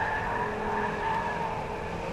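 A Volvo car corners on a circular test track at a proving ground with the anti-skid system switched off, giving a steady, loud tire squeal over a constant engine drone with no pauses.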